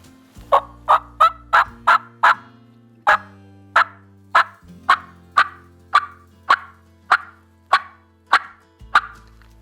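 A mouth call imitates a wild turkey, a fast run of sharp yelps followed by evenly spaced, clipped clucks, clear and close with no talking.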